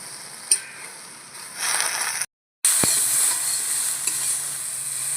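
Kharkol greens fry with a little salt in a pan, giving a continuous hiss and sizzle with scraping stirs and a brief gap of silence partway through.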